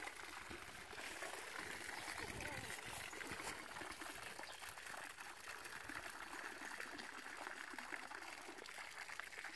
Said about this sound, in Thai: น้ำไหลแล้วครับ